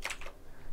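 A few quick keystrokes tapped on a computer keyboard while entering a bind command in the Team Fortress 2 console, faint and brief clicks followed by quiet.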